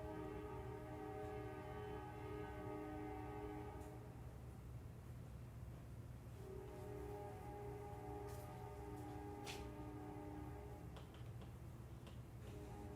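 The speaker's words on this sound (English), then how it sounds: "That's 4 trains so far during lecture." A train rumbles past outside, steady and distant-sounding, with a sustained low drone and faint horn-like tones holding on for several seconds, alone with no talking.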